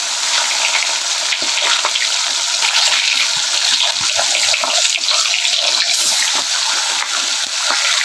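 Fish pieces rubbed with salt and turmeric sizzle loudly in hot oil in a pan, a constant close crackling hiss with small pops throughout.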